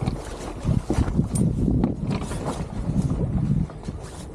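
A sailboat moving under sail in very light wind off the west coast of Scotland, giving a steady, close rush of water against the hull with soft wind buffeting across the microphone. No one speaks.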